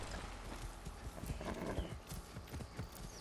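Horse hooves clip-clop in an uneven trotting rhythm in Far Cry 6, moderately close, blended with soft ambient game sounds and no talking.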